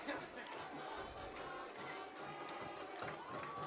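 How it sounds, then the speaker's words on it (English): Home crowd in the stands at a Hicksville varsity football game against Edgerton, a steady wash of chatter and cheering with scattered shouts and whistles, moderately distant and continuous throughout. "So the Aces crowd, even though we're still trailing, they are they're lively here."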